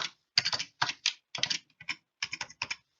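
Fast bursts of keystrokes on a computer keyboard while filling in a budget form, crisp, close clicks in short irregular runs separated by brief pauses, with no talking.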